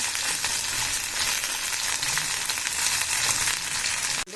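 Ivy gourds frying in a hot pan give a steady, close sizzle that holds evenly throughout, with a brief clatter right at the end and no talking.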